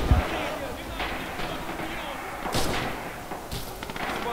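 Artillery fire in the video game Red Orchestra 2, with a pair of muffled, distant booms thudding through a busy battlefield wash while people talk over it.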